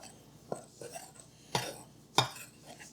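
Dry bread flour, sugar, instant yeast and salt stirred in a bowl, heard as a few scattered scraping clinks of a utensil against the bowl, a couple of them sharper and louder, with no talk.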